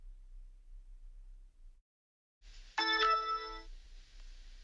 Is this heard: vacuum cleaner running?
no